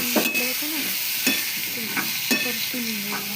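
Brinjal and potato curry, Marathwada style, sautéed and stirred in a pan, with a few sharp spoon scrapes standing out above a steady, close sizzle, and no talking.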